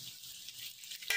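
Bamboo shoots going into hot oil with golden garlic, onion and green chili, a faint, steady crackling sizzle that carries on briefly, ending in a sharper burst at the very end.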